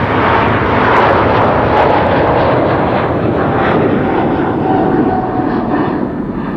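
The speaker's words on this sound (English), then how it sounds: "This is a 777 to San Francisco." A Boeing 777 jet departs Amsterdam Schiphol Airport, its engines producing a loud, steady broadband roar that fills the whole stretch without pause.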